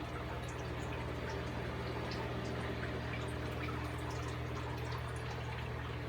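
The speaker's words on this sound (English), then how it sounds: "It comes through this pipe here, drips down into that one, into that one, into that one, and then goes out that pipe there." Water trickling and dripping through pipes cascading between a bank of shell dweller aquarium breeder tanks, a soft steady flow over a low constant pump hum, faint and continuous.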